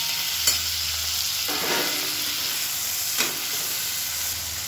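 Tomatoes and onions sizzle and hiss steadily in a hot pan, with a couple of brief scraping stirs, no voices.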